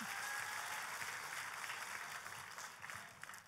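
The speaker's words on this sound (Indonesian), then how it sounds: "Tepuk tangannya yang paling meriah buat Tuhan kita." Church congregation applauding in praise during an Indonesian sermon, a steady, moderately distant wash of clapping that holds throughout and thins slightly toward the end.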